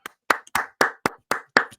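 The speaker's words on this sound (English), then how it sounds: "Do the round of applause." Steady hand clapping, about seven sharp claps in even rhythm, close and clear with no talking.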